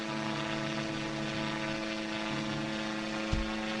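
Steady propeller drone of a small airplane cruising in a physics flight game, a continuous even hum with a single brief thump near the end.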